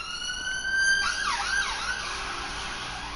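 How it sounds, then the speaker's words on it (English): A police car siren passes outside during an indoor livestream, a steady tone that switches into rising and falling wails, loud and clear with no talk over it. "Sorry about that, goddamn police car."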